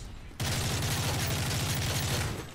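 Gunfire from the Modern Warfare 3 video game: after a short quiet lead-in, a loud, rapid automatic burst of shots starts and continues steadily, sharp repeated cracks rattling in a fast, even rhythm until the end.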